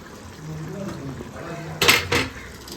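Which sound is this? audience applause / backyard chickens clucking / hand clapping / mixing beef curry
mixing beef curry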